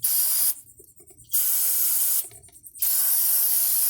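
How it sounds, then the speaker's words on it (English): Two bursts of carb cleaner sprayed onto grimy RV brake parts on a 1996 Fleetwood Southwind, each a sharp close hiss lasting under a second, separated by a short pause, with no talking. "I'm just going to squirt this with some carb cleaner because I don't have brake cleaner."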